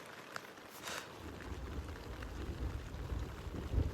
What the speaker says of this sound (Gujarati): વરસાદ ચાલુ થઈ ગયો, વરસાદ, વીજળી કડાકા બધું ચાલુ થઈ ગયું.